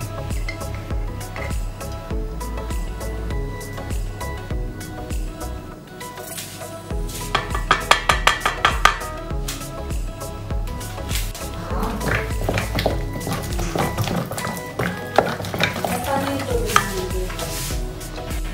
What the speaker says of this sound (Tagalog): Tapos haluin lang natin yung mga ingredients dito.